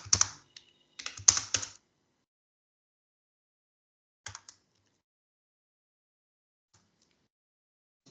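Someone types Java code on a computer keyboard, with a few quick bursts of key clicks, a short tap later on, and long stretches of silence between them.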